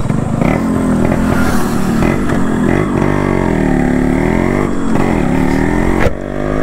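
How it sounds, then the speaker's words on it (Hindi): A Yamaha RX motorcycle engine starts and rumbles loudly and steadily up close, idling with slight revving swells throughout. "तो चलते हैं बाइक चालू करते हैं।"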